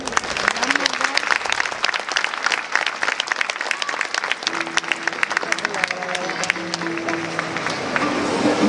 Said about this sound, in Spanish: Venga ese fuerte aplauso.